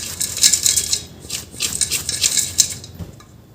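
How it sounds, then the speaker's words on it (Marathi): Crushed peanuts and grated coconut being mixed in a bowl, close rapid scraping and clinking of a spoon against the dish in uneven bursts. "इथे आपण शेंगदाण्याचं कूट आणि खोबरं किस हे छान असं मिक्स करून घ्यायचं आहे"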